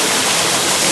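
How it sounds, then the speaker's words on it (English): A 20-foot waterfall at Clark Creek roars in a steady, dense rush of falling water, close and loud with no break across the short stretch. "Before you see it, you hear it. The first waterfall, and it's a beauty, a 20-footer."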